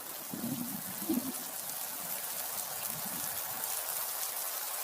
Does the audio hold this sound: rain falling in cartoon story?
yes